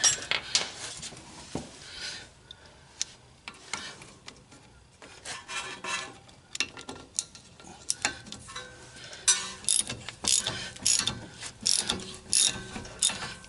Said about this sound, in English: Let's get a ratchet out right there.